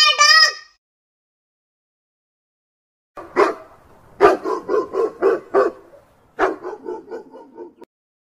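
A dog barks in a quick volley of sharp, repeated barks, then a second burst after a brief break, close and loud.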